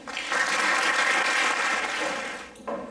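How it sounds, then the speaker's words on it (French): A seated audience at a music performance breaks into sustained applause to welcome a dutar player to the stage, a dense steady wash of clapping that fades near the end before a brief final burst. "Merci d'accueillir, sous vos applaudissements, Mirtolib."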